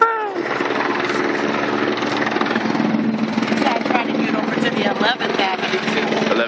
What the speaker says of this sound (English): Two helicopters, not one,